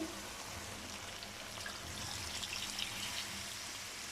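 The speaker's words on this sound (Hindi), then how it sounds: "अभी मैं इसमें पानी ऐड करूँगी अपने शोरबे के हिसाब से।" Steady splashing pour of water into a simmering pot of aloo gosht curry, a continuous broad wash of liquid noise with faint sizzling underneath, close and moderately loud.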